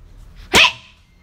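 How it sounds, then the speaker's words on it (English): A single short, sharp huff or bark from a dog indoors, close and fairly loud against near silence, with faint breathing before it and no talking. "Why you barking, la?"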